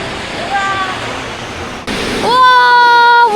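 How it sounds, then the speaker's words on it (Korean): A waterfall roars at close range beneath the falls, a loud, dense rushing wash that swells louder partway through, with a short high tone over it. "지금 여기 폭포 바로 아래까지 이렇게 올 수 있거든요."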